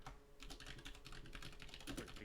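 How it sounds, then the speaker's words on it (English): Rapid, continuous typing on a computer keyboard, with quiet, evenly clustered key clicks heard close up and alone throughout. "I'm literally typing right now."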